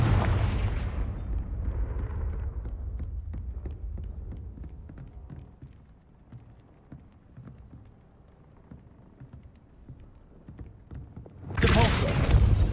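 A Confringo fire spell blast from the wizarding game Hogwarts Legacy bursts loudly at the start and fades into faint crackling debris and patters before a second sharp burst hits near the end.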